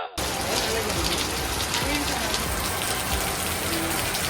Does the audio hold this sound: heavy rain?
yes